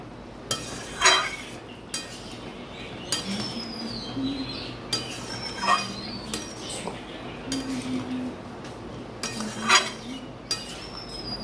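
A spoon stirs gur aam, a jaggery and mango dish sprinkled with ground spice powder, in a village kitchen, giving a few scattered metallic clinks and scrapes against the pan. Faint birdsong sits in the background.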